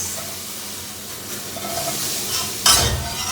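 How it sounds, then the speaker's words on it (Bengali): Onion and garlic fry in a pan with a constant close sizzle and hiss as they are stirred, and a sharp scraping stroke sounds near the end. "বেশ খানিকটা পেঁয়াজ রসুন দিলাম, এটা আমি তুলে নেব।"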